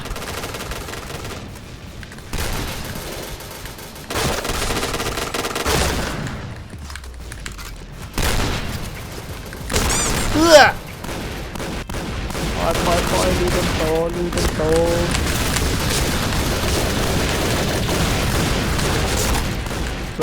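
An M1014 shotgun fires in the shooting game Point Blank, with repeated sharp blasts and bursts of gunfire scattered through the clip, some loud and close, and a few voices in the background.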